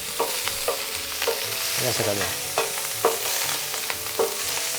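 Squid frying and being stirred in a paella pan, a steady close sizzle broken by repeated scraping and clinking strokes of the utensil against the metal, with no voices.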